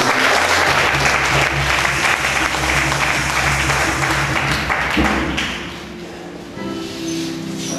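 A church congregation acclaims with steady, full applause during a Sunday service, the clapping dense and loud at first, then softening, with low organ or keyboard tones sustained underneath.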